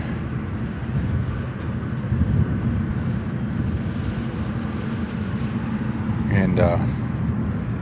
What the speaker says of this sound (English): Cargo taxiing.